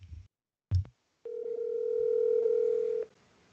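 A phone call's ringing tone plays over speakerphone held to a microphone: one steady, clear electronic tone lasting about two seconds, preceded by a couple of short thumps and followed by quiet.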